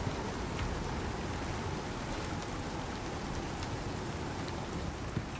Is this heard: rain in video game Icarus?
yes